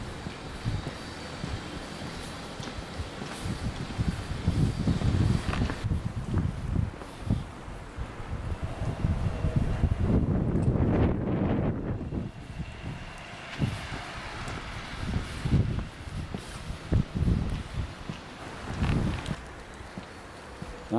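Breeze blowing in winter in St Hubert, Belgium: a steady, rushing wind with low buffeting gusts that rise and fall across the whole stretch, close and fairly loud, alone with no talk.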